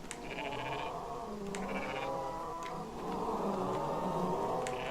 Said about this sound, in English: Bighorn sheep. Even better.